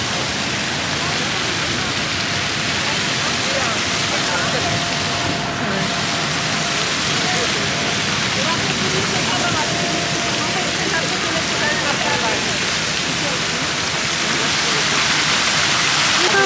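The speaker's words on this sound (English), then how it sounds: "Pretty the waterfall is" A waterfall beside a monument in Lisbon, Portugal, roars as a dense, steady rush of water, loud and continuous with no breaks.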